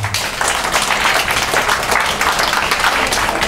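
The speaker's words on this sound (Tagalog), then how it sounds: "O, palakpak naman dyan." Live audience applause at a healthy-lifestyle talk, a dense, steady patter of many hands clapping throughout, loud and close with no speech over it.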